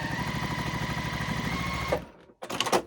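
Sewing machine chain piecing quilt squares, a steady fast needle rattle running close and loud for about two seconds before stopping, followed by short bursts of fabric handling.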